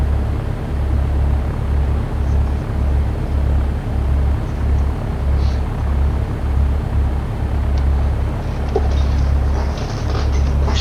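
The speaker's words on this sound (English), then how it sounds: "So we're taxiing at 10 knots." An airplane taxiing at about 10 knots in the flight simulator X-Plane 11, a steady engine drone with a regular low pulsing thump beneath it and a few faint clicks.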